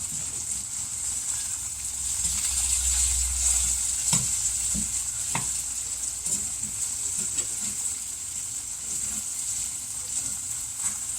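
Food fries with a steady close sizzle in a pan while a utensil stirs and scrapes the bottom, giving occasional sharp clicks, with faint talk in the background.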